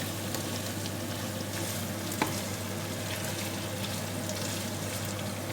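Steady crackling sizzle of chicken frying in a pan, even and continuous throughout, with one brief clink partway through and no voices.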